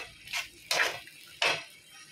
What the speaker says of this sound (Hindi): इसे भी मैं 5 मिनट तक भूनूंगी इस मसाले को